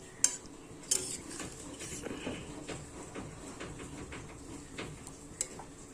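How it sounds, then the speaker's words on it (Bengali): Fish curry made with kajli and bou fish is stirred in a pan on the stove, giving soft scraping and clinking of a utensil against metal with a few sharp taps, faint and close. "চলো একটু নাড়া দিয়ে দিই"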